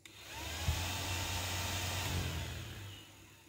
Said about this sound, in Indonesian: ini kipas masih bisa berputar menurut perintah dari alat